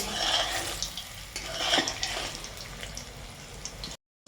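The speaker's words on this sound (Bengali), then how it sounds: "ভালো করে ডিপ ফ্রাই করে নিতে হবে" Semolina pantua sweets deep frying in oil make a continuous close bubbling sizzle, with a few stirring scrapes in between, before the sound cuts off abruptly near the end.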